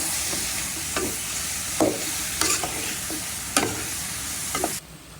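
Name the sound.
eggplant stir-fried in oil with dried mola fish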